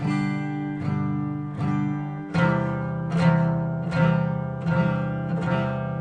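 Guitar chords strummed one after another about every 0.8 seconds, each ringing out with a clashing, sour open string, clear and alone.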